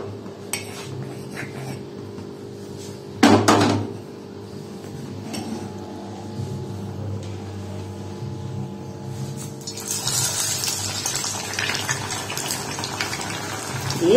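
A mughlai paratha goes into oil in a wok. A short metallic clank comes first over quiet kitchen background, then a soft, broad frying sizzle rises and continues toward the end.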